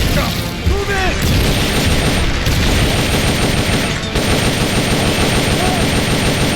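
Sustained machine-gun fire and gunshots in the Metal Gear Solid Peace Walker video game, loud continuous rattling bursts throughout, with voices shouting over the battle.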